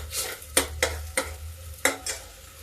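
Paste of two ground tomatoes cooks in a pan with a low sizzle. Four or five distinct scrapes of a spatula stirring it stand out close by, with no talking.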